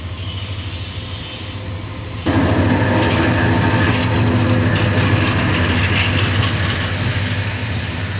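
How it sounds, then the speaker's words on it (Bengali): A train pulls out of Joydebpur station bound for Jamalpur, starting as a low steady engine rumble that jumps louder partway through into continuous rolling wagon and wheel noise, close and sustained. "ট্রেনটি ছেড়ে যাচ্ছে জয়দেবপুর থেকে"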